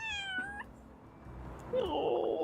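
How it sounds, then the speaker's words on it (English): A cat meows in the Little Kitty, Big City video game, a single high, rising-then-falling meow at the start, then a soft pause and a brief chirpy game tone. "we had a dedicated meow button"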